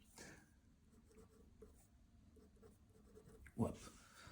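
Chalk or marker strokes scratching across a board during a French maths lesson on differential equations, several short scrapes spread over a few seconds, quiet and close, ending in a louder tap.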